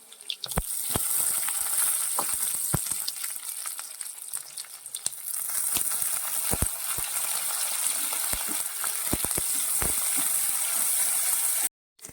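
Oil crackles and sizzles steadily in a pan as shallots, dried red chillies and curry leaves fry, with sharp scattered pops and spits over a continuous hiss.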